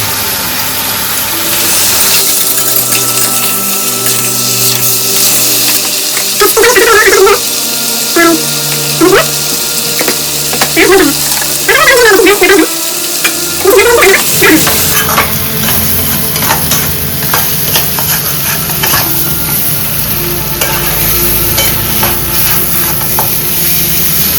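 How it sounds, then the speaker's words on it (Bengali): Mutton curry fried and stirred (kosha) in a pan: a continuous loud sizzle with repeated scraping strokes of a spatula through the middle of the clip, close and steady. "মাংস যদি খেতে ভালোবাসো তাহলে মন দিয়ে কষো।"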